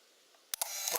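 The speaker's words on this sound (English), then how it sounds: "So when I press the shutter button," A Leica M9 digital rangefinder camera fires its shutter, giving a quick pair of sharp mechanical clicks followed by a soft whirring recock, heard close up.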